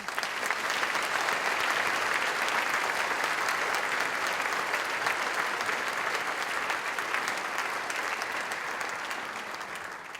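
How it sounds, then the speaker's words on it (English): A full audience applauds steadily for about ten seconds at an evening discussion program, the dense clapping holding even and fading only slightly at the end. "Let's have a round of applause for our special guests."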